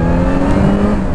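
A motorcycle engine accelerates on the road during a riding lesson, a loud, steady, close drone with rising harmonic tones and no speech.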